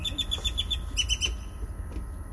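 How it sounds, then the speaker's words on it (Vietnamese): Birds at the seaside chirp in quick, repeated high tweets close by, over a low steady background rumble. "Thôi mấy con chim này nó kêu lãnh lót luôn."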